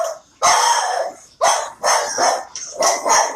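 Several dogs barking in a small group at close range, four loud bursts of barks and yips in quick succession with short gaps, no talking over them.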